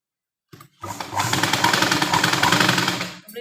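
A sewing machine runs one continuous, close, loud burst of fast rhythmic stitching across a baby's lehenga, lasting about two and a half seconds.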